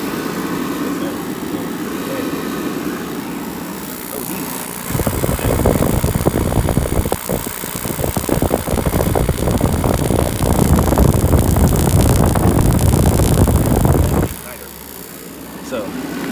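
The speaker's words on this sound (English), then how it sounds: "There's no way for you to turn the fan off as long as it's getting power." Craftsman 60,000 BTU forced air heater with its fan running, a loud steady broadband whoosh that kicks in partway through, holds for about ten seconds and then drops back to a quieter hum, with a voice speaking over it.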